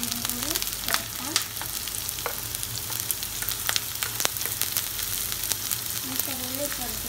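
Green chilies sizzling with ginger paste in a pan for Kerala-style kingfish curry, a steady crackling fry with sharp pops and occasional stirring scrapes, no voices.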